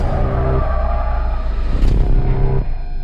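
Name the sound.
bus crashing in Halloween movie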